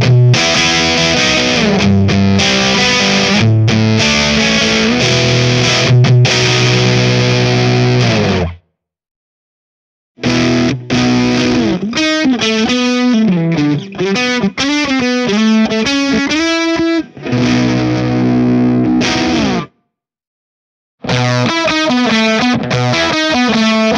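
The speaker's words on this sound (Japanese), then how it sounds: "まずはソースオーディオのキングメーカーファズです。" Electric guitar runs through a Source Audio Kingmaker digitally controlled fuzz pedal, giving loud, saturated riffs and chords with a few short silent gaps between phrases.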